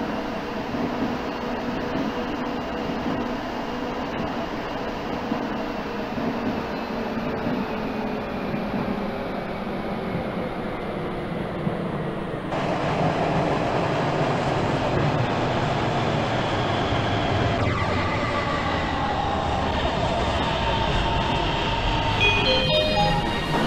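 A Guangzhou Metro Line 2 train running in the OpenBVE simulator game, a steady loud rumble of wheels and motors with a whining pitch that shifts as it slows, rising in level midway and continuing throughout.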